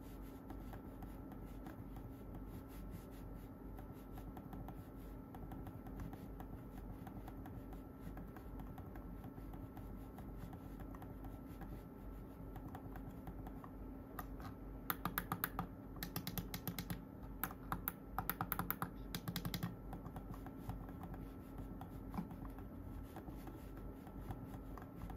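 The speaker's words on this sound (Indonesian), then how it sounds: "Sekarang kita coba feel mengklik di mouse ini." Soft, muted clicks from a JETE MS3 silent wireless computer mouse, a few faint scattered taps clustered in the latter half over a steady low background hum.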